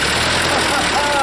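A Ford 8N tractor engine sputters as it tries to fire, a loud, steady rumbling churn close to the microphone for just over a second.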